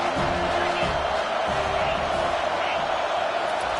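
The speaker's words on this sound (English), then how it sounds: "This crowd bringing an ear-splitting welcome to their visitors." A stadium crowd at a USC football game roars in a loud, continuous wash of cheering that holds steady throughout.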